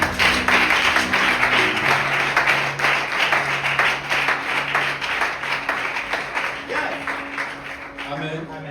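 Dense applause rises from a church congregation in a steady wash of clapping that keeps a fairly even level from start to finish. Voices run underneath the clapping throughout.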